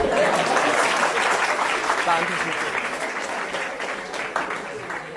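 An audience applauds steadily throughout, a dense wash of clapping that slowly tapers, while a person speaks briefly over it.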